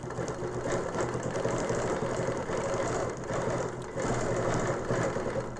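A sewing machine stitches steadily through a quilt at the end of a row, a fast, even mechanical whir that runs close and loud with only a couple of brief dips in speed.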